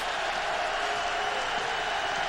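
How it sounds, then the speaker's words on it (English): A roaring football stadium crowd at a 2005 Bears vs Redskins game, a dense, steady broadband wall of noise that continues unbroken and fairly distant throughout. "The crowd starting to be a factor down here for the first time today"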